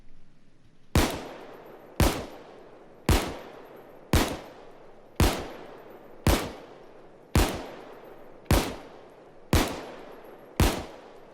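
M1911 Crosskill pistol in Payday 2 firing eleven single shots at an even pace of roughly one per second, each a sharp, loud crack with a short decaying tail, no talking.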